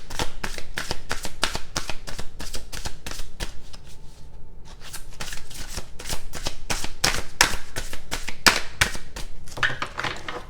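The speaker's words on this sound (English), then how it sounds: "Three shuffles." Tarot cards shuffled by hand, a fast continuous riffle of crisp card slaps with one short pause partway, close and loud, no talk.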